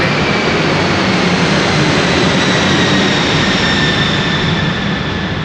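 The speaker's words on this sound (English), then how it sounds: "Just 1 second, let the plane go." A small propeller plane passes overhead, its steady broadband engine drone filling the whole stretch at constant loudness with no speech over it.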